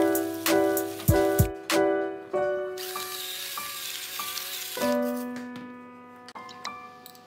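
Tilapia fillet sizzles in a frying pan with a continuous hiss that builds in the middle, under tuneful background music with plucked notes.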